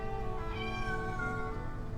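A pet cat named Despy meows in a long, drawn-out wail with a steady, wavering pitch, close and fairly loud against a low rumbling background.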